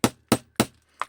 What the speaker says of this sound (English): You get your little hammer.